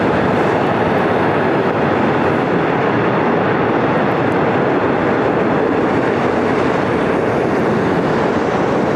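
A jet airliner lands on runway 24 right at LAX, its engine roar a loud, steady broadband rush that holds throughout without a break.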